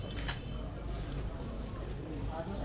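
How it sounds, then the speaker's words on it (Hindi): Pigeons coo softly on a rooftop loft, low murmuring calls at moderate distance, while people talk nearby over the birds. "गुजरांवाला से ये कबूतर आया"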